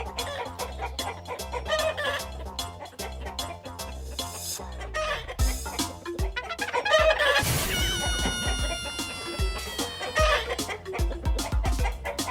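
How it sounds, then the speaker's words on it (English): A chicken clucks and squawks while running loose on the ground, its busy, fluttering calls close and lively over light background music. "As Jazy dropped the chicken on the ground"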